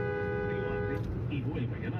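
Car horns honk on Route 146 in the Chaimávida area during a dangerous roadside confrontation between a motorcyclist and a truck driver, a steady held tone sounding for about a second before voices and road noise take over.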